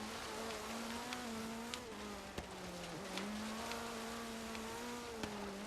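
A Subaru WRX STI VT15R rally car races in a video game, its engine holding a steady, droning whine with small pitch dips and scattered sharp clicks, with no one talking.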